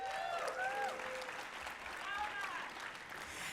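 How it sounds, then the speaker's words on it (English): An awards ceremony audience claps for an award recipient, a fairly soft, even spread of applause with faint tonal sounds and a voice or two underneath. "Please give a round of applause to her."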